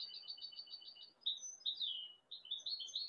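Small birds chirp and trill in quick, high bursts, a goldfinch-style song of repeated twittering phrases with brief pauses between them, fairly close over a faint background hiss.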